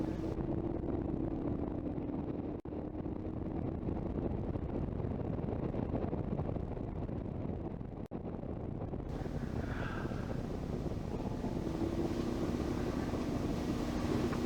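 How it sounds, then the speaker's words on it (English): A 2019 Moto Guzzi Elkader V-twin fitted with a new Continental rear tire rides through town corners, heard mostly as steady, loud wind buffeting over a low engine drone with no talk. "Give the Guzzi and that new rear Continental Go tire a little bit of exercise."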